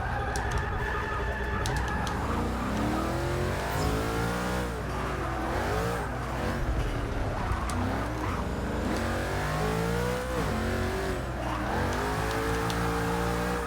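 A Gas Monkey Garage bagged Ford GT with a 5.4 liter engine revs and shifts in the Forza Motorsport 6 racing game, its engine note rising and falling repeatedly, loud and continuous throughout.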